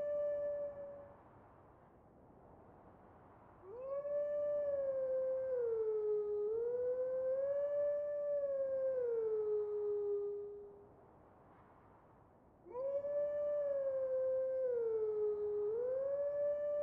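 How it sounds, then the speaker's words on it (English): An eerie howling stone in The Legend of Zelda: Twilight Princess sings a wavering, wolf-like tonal melody, two long sustained phrases separated by a quieter pause, clear and alone. "A howling stone."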